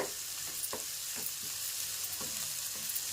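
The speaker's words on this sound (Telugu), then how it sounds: "ఉల్లిపాయలు బాగా మగ్గేంత వరకు మంట సిమ్లో మీడియంలో అలా ఉంచేసుకుంటూ కలుపుతూ ఉండాలండి." Onions sautéing over a medium-low flame for onion kachori filling, with a steady soft sizzle broken by occasional scraping stirs in the pan, no voices.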